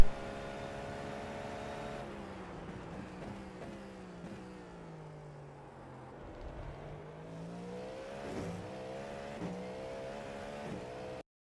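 GTP prototype race car in the iRacing simulator at Sebring, its engine held flat out with a sustained high-pitched whine that dips briefly and climbs back as the car powers through, loud and continuous with no talk.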